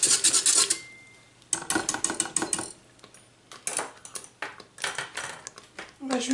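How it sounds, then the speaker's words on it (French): A mixture is stirred into mac and cheese sauce in a Cookeo multicooker, producing loud, scraping utensil strokes against the metal pot in irregular bursts with brief pauses between them. "on l'incorpore dans la sauce et on remue de suite"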